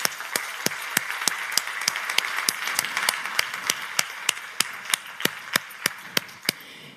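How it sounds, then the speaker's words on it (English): A small forum audience applauds its opening guests: moderate scattered clapping with a few sharp, steady claps standing out through the round. "it's on our side to give a big applause"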